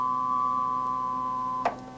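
A steady computer-synthesized harmonic tone with stacked low and high harmonics holds evenly, then a brief bright click-like burst near the end before the tone continues slightly softer.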